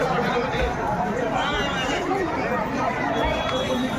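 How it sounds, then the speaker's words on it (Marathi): A packed crowd of devotees at the Pandharpur temple on Ekadashi: steady, dense babble of many voices, a constant loud hubbub with no single voice standing out. "आज सकाळपासूनच भाविकांनी दर्शनासाठी मंदिर परिसरात गर्दी केली आहे।"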